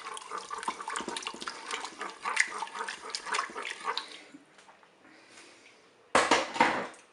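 Mussels in a roquefort cream sauce get stirred inside a Cookeo pot, giving soft wet sloshing and clinking of liquid and shells, fairly close, fading toward the end before a brief louder splash.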